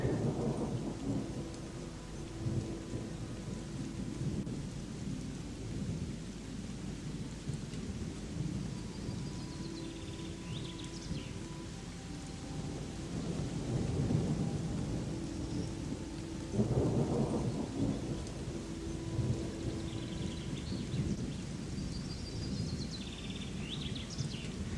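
Steady rain pours down in the game Gothic II: Night of the Raven while deep thunder rolls and rumbles several times through the storm, with faint bird calls mixed in.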